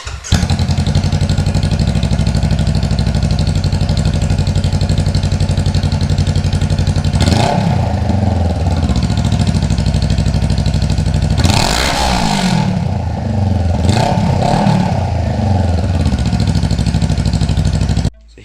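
A Honda CBR motorcycle engine runs with its exhaust removed, a loud, steady open-header drone with blips of revving near the middle and again toward the end, close up throughout.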